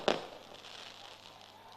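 Fireworks going off at a political rally in Pakistan, a single sharp bang followed by a fading crackling tail, somewhat distant and faint.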